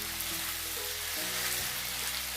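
Chicken pieces frying in a pan for a creamy Pakistani chicken handi give a steady, close sizzle throughout, with faint stirring scrapes mixed in.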